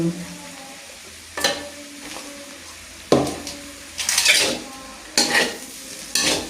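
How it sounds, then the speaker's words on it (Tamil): Kottu roti stirred and chopped on a hot griddle: sharp metallic clatters of a blade on the plate come in four bursts over a steady sizzle, loud and close. "அதை போட்டு நல்லா வடிவா எண்ணி கொத்துக்குள்ள கிளற வேண்டும்"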